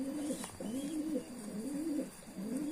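A grey-red homing pigeon coos in a steady repeated rhythm, several low rolling calls close by over faint background hiss, with no talk.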